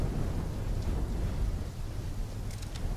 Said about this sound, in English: When the full force of the storm hits, we'll be looking at 150 mile per hour winds